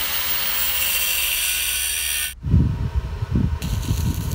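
Power tool cutting a slot into a steel pipe for the crossbar of a homemade outdoor pull-up bar: a steady, loud hissing grind that cuts off abruptly partway through, followed by uneven low knocks and scraping.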